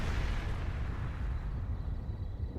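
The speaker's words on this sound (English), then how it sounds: "What was that explosion? It came from the villa!" Explosion at a villa in the video game Trails through Daybreak II, a heavy low rumbling blast that rolls on continuously and loud without a clear start or end.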